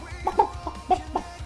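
Several young chicks clucking and peeping in short, separate calls, about five chirps spread irregularly, close and fairly clear over a low background hum.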